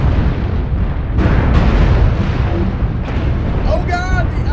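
Weapon fire and explosions from a Blackjack mech battle in MechWarrior Online: a continuous rumbling roar broken by several loud booming bursts, with electronic chirps near the end.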